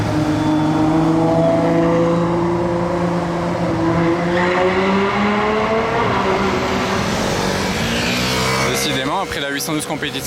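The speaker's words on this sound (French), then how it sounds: "Encore une Ferrari, on enchaîne, un peu moins bruyante." A Ferrari sports car drives past on a Monaco street, its engine note rising and sweeping through gears, loud and close, ending with a sharp burst as it passes.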